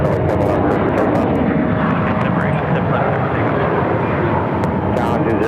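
Southwest airliner taking off from runway 7 left at Phoenix Sky Harbor, a powerful continuous engine roar, broad and steady, with voices talking over it.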